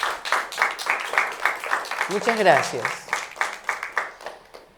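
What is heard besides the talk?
audience applause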